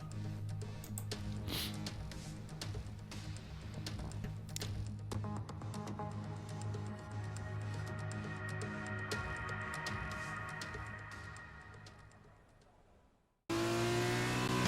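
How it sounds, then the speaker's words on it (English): An F2 race car in the F1 2020 video game heads out under floodlights, its engine a steady, loud revving drone with rising pitch sweeps for about thirteen seconds before cutting abruptly to a different game sound. "out we go underneath the floodlights in the F2 car"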